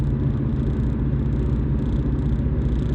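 Steady low rumble inside a car on the drive home after work, a constant engine and road drone with no talk and no music, unchanging throughout.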